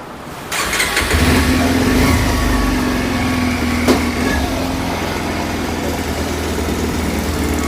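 Car engine starting and settling into a steady idle after a MAP sensor replacement, a loud continuous hum with a brief rev near the start and a small knock midway.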